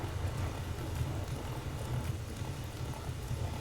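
Horse hooves clip-clop steadily as a mount is ridden in The Witcher 3, a continuous muffled rhythmic beat of game audio with no voices over it.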